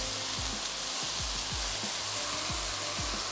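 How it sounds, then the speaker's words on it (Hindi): Rice with vegetables stir-fried in a pan for desi-style fried rice, a steady loud sizzle with rhythmic scraping strokes of a spatula repeating about every half second throughout, no voices. "अब क्या करेंगे हम इसको मिक्स करेंगे"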